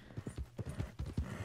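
In the Red Dead Redemption 2 video game, horse hooves clip-clop in a quick, steady rhythm on the ground at moderate distance, with no speech.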